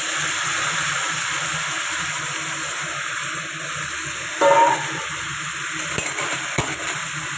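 Meat dropped into hot oil with browned spices in a pan, a steady close sizzle and hiss with a sudden louder burst of spitting partway through, then a couple of sharp clinks of stirring.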